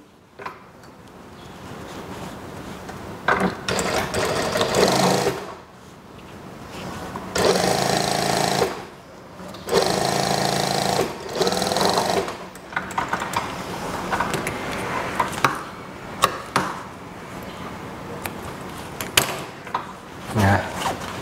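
Sewing machine stitching a seam on a long elastic-waist school skirt, running in several separate bursts of a few seconds each with pauses between, close and fairly loud.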